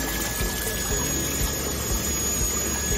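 Water running onto the copper alloy wheel of a longitudinal seam welding machine for steel drums, a steady loud rushing and splashing hiss with a faint constant machine tone underneath.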